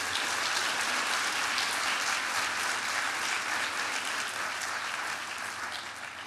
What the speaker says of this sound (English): why don't we give everybody a round of applause